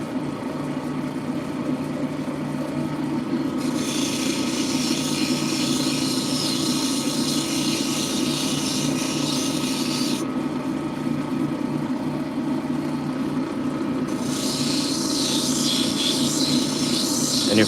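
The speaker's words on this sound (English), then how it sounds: "if you're wondering what it's called a cabbing machine" A cabbing machine grinds a stone with a steady motor hum, while a brighter hiss of stone on wheel swells in and drops out in long stretches.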